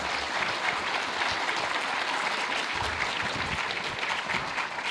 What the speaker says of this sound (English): Can we get a round of applause for our esteemed panelists?